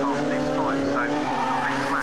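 Race cars in a Radical Clubman's Cup club race, one spinning after contact, with engines droning and tires squealing in rising and falling skids across the moment, under a commentator's talk.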